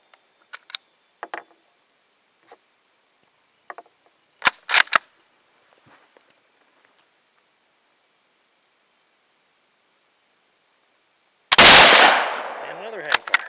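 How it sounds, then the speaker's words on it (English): Several sharp gunshots at uneven intervals, some doubled or delayed as hang fires from a firearm, then a loud sustained rushing burst near the end, with no talk. "had a hang fire in that one too"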